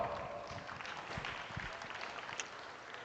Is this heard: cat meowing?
no